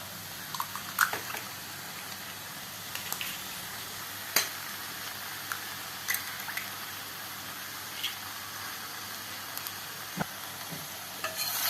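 Two eggs go into a pan of broad beans stir-fry, with a steady sizzle and occasional clinks and scrapes of a spoon against the pan.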